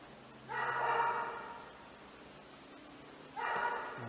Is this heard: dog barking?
yes